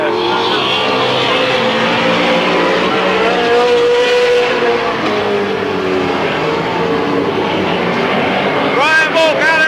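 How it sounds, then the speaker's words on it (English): Race cars lap a small oval at Midvale Speedway in 1995, their engines a loud continuous roar rising and falling as they pass, with a brief tire squeal near the end. An announcer calls the race over the engines. "Rich Rohr gets on the inside"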